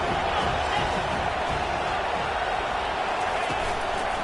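Home crowd in College Football 25 roaring loudly and steadily in a dense wall of stadium noise, with a commentator speaking over it.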